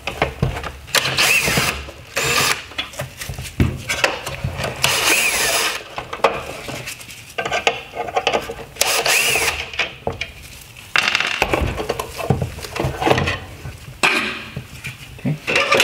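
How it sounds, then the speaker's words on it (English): Screws being backed out of the high and low beam shroud on a 2014-2016 Nissan Rogue OEM full LED headlight, giving repeated clattering, tool-like bursts of close metallic and plastic noise with short pauses between them. "we're going to start removing the screws holding on the high and low beam shroud."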